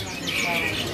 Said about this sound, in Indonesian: Ini perkutut putih Sengoro tuh